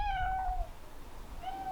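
A house cat gives two meows indoors at home, a longer one followed after a short pause by a second, both moderately close and heard alone over a quiet room.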